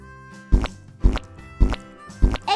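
A hammer pounds a folded peanut butter sandwich shut with four evenly spaced, dull thuds, close and fairly loud, over a steady tonal background.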